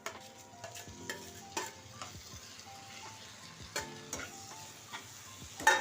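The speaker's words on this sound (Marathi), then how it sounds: "आणि खूप छान असं हे सगळ्या साईडने परतून घ्यायचं." Brinjal stirred and sautéed in a pan, with a soft steady sizzle broken by repeated scraping strokes and taps of a spoon against the pan, close and without speech.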